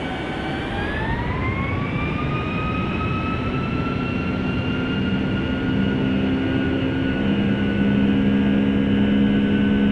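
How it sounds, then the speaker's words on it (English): Loud, steady roar of an airliner taking off on a flight from Qatar to Saudi Arabia, heard from inside the cabin, with engine whine tones rising in the first second and then holding as a continuous rumble. "Takeoff."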